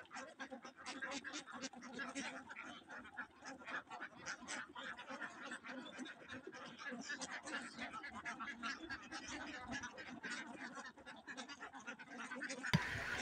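Camel ducks on a village farm after feeding time, swimming and calling: a continuous, busy chatter of quacks from several birds, moderately close and steady throughout, with faint background voices.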